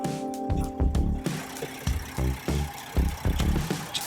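A Freightliner Cascadia truck engine idles with a rough, pulsing mid-range rumble, loud and close, its beat rising and falling unevenly with no talk over it.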